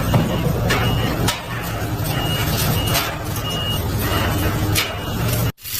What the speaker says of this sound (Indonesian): Wow, ada forklift.